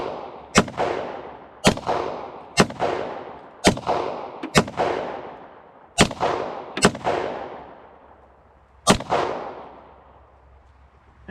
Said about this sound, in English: A little bit of rapid fire with both of them.